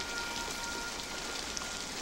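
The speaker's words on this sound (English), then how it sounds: "Get in here out of the rain." Rain falls steadily on a surface in a film scene: a soft, even, continuous patter, faint and without any voices.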